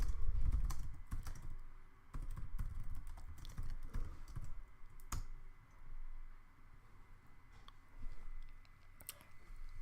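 Rapid typing on a computer keyboard, with bursts of clicking keystrokes broken by short pauses, close and fairly quiet, with no talking.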